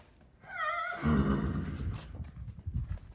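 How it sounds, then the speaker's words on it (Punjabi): A horse gives a short, high whinny up close, followed by low snorting breaths and faint shuffling. "ਮਹਾਰਾਣਾ ਘੋੜਾ ਡੋਡਾਂ ਵਾਲਾ"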